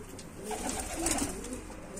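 Soft pigeon coos sound close by inside a pigeon coop over a steady background hiss, with no voices.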